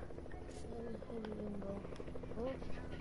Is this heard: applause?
no